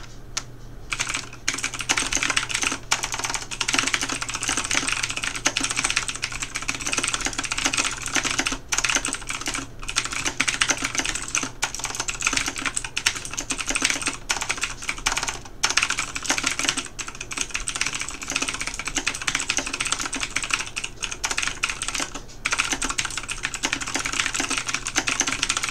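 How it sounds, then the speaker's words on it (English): Fast continuous typing on a Razer Blackwidow Ultimate mechanical keyboard during a speed test, dense clacking keystrokes close up with brief pauses, no talking. "I have my keyboard here, the Razer Blackwidow Ultimate, and let's go ahead and get this a shot."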